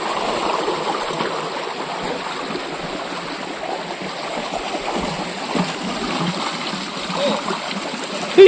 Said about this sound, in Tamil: அங்கேருந்து வருது தண்ணி. பியூர் வாட்டராக போயிட்டு இருக்குது மக்களே